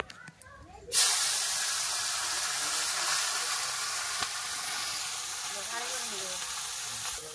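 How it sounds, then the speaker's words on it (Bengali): Fish hit hot oil and set up a loud, sudden sizzle that settles into a steady hissing fry, with faint voices under it. "এরকম করে মাছগুলো সব ভেজে নেবো"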